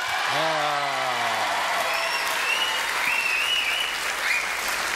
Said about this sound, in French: Applaudissements pour Claude Chabrol, mesdames, messieurs